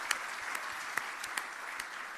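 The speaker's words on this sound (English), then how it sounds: "A round of applause to our sponsors." An audience at an engineering awards evening claps for the sponsors, a soft, fairly distant wash of applause with a few sharper claps poking through.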